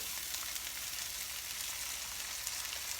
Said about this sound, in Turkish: Yağı tamamıyla erittikten sonra üzerine pirinçleri boşaltıyorum.